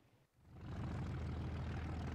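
The piston engines of a PB4Y bomber in War Thunder swell from quiet into a steady, loud droning roar that holds evenly to the end, with no talking.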